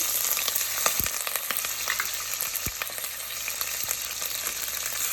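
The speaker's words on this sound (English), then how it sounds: "Then I will fry the pan." Hot oil sizzles steadily in a pan as corn-flour chowder ingredients fry, a dense crackling hiss with frequent sharp pops and a couple of low knocks from stirring, with no talking.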